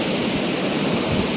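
Ocean surf at Patong Beach in Phuket, Thailand, in the evening: a steady, fairly loud wash of breaking waves fills the whole moment with no pauses and no voices.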